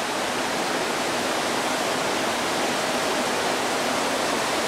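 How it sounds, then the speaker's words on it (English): Churning water from one or two ship propellers at the stern of a cruise ship, a steady, broad rushing wash with no break, moderately loud and unaccompanied by voices. "that noise is the sound of at least 1 or 2 propellers"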